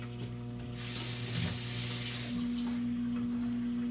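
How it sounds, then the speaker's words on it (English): Water runs from a kitchen tap as honey is washed off fingers, a steady hissing splash at moderate volume over a low electrical hum, with no talking. "I wash the honey off my fingers,"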